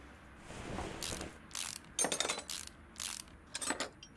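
A ratchet wrench in Car Mechanic Simulator 2018 clicks in about six short, quick bursts while it works loose a single bolt near a brake disc, crisp and close against a quiet background.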